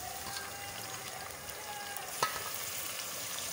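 Onions and tomatoes frying in a pan for moong dal make a soft, continuous sizzle with faint bubbling, and a single sharp clink partway through.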